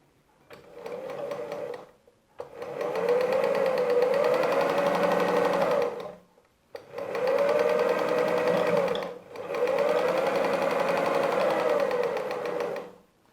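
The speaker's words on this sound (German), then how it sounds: "Und vernähe die Naht in der Mitte." Sewing machine stitching a patchwork block seam, three long steady whirring runs separated by short pauses, close and loud with a brief stitch burst at the start.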